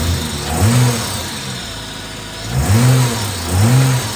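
A well-worn ute with 500,000 km on it idles steadily up close, with three brief revs swelling and falling back over the low engine drone; no one speaks.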